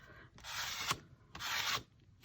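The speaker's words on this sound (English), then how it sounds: "See if I can't scrape some of it off." Acrylic paint being scraped off a mixed media journal page in two long rasping strokes, close and fairly loud, with a short pause between them.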